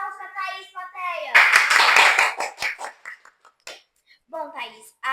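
Audience applause for a guest on a Brazilian teen-focused interview show, a dense burst of clapping rising sharply after speech and fading over a few seconds, with talking before and after.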